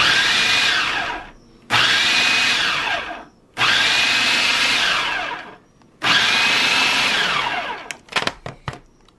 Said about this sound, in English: you kind of have to pulse this so the other whole fruits will fall down to the bottom